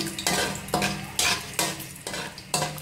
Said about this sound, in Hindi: और इसको मैं हल्का सा फ्राई करूँगी